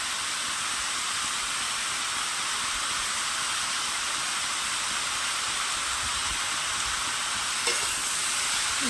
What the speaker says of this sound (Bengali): একটু ভালো করে মিক্স করে নেবো হলুদটা।